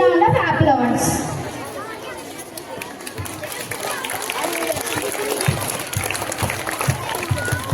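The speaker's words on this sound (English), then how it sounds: "Please welcome him with a huge round of applause." An audience at a school Independence Day celebration claps to welcome the Commissioner of Police as chief guest, a sustained crowd applause of moderate loudness mixed with chatter and a voice over the sound system at the start.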